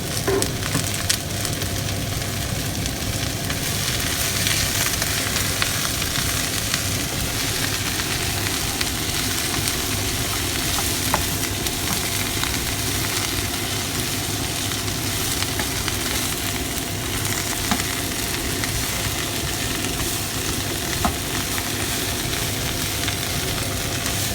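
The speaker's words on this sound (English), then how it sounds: "Have some chilies, broccoli and the peppers, everything into the pan." Chilies, broccoli and peppers stir-fry in a pan in a dense, continuous sizzle and hiss that holds steady throughout, with occasional faint crackles.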